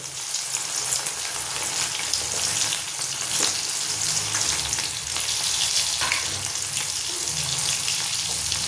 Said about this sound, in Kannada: ಅದೇ ಎಣ್ಣೆಲೆ ನಾನು ಮತ್ತೊಮ್ಮೆ ಇವನ್ನೆಲ್ಲವನ್ನು ನಿಧಾನಕ್ಕೆ ಹಾಕೋಣ. ಮತ್ತು ಎಣ್ಣೆ ಸಿಡ್ಗಿಡ್ದಿದ್ದು ಹುಷಾರಿ